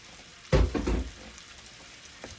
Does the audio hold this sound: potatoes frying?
yes